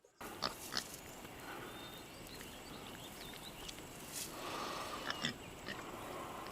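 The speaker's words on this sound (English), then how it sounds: "Pig is doing its job perfectly." Soft, continuous snuffling and rooting from a nearby pig, with occasional grunts and rustling over a steady low background.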